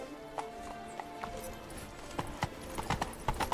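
Hooves of Roach, the horse in The Witcher 3: Wild Hunt, clip-clop in a quick, light rhythm over a faint game ambience, with a few sharper hoofbeats near the end.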